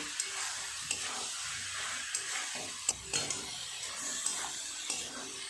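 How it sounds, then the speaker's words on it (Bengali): Soybeans being fried with spice masala in a pan give a steady sizzle, broken by light clicks and scrapes as a spoon stirs them at close range. "খুব ভালো করে সয়াবিনের সাথে মশলাটাকে কষিয়ে নেব"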